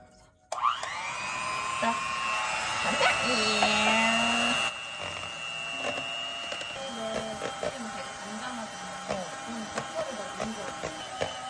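An electric mixer whirs at medium speed through Christmas cake batter, a steady mechanical hum that starts abruptly and then drops in pitch partway through, with voices talking briefly over it.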